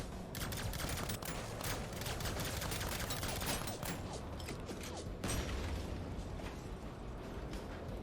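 Gunfire in a squad-of-four online shooter: dense, continuous crackling bursts of shots with mechanical clatter, steady and fairly loud throughout with no talk.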